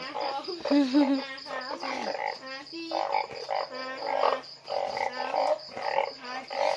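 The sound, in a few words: banded bullfrogs croaking at night in Laos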